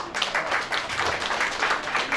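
An audience at a corporate company introduction claps together, a dense, continuous patter of many hands at moderate loudness.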